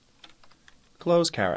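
Typing on a computer keyboard while entering HTML comment syntax: a few light keystrokes tick quietly under a man's speech, followed by louder talking at the end.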